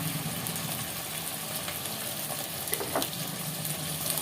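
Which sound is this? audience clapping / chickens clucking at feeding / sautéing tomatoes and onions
sautéing tomatoes and onions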